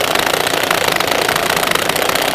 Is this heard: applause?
no